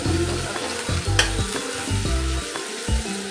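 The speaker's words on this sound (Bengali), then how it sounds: "আপনারা রসুন আর আদাটাকে ভালো করে একটু ভাজবেন" Garlic and ginger frying in oil for dry chilli chicken, a steady close sizzle broken by repeated scraping stirs of a spatula against the pan.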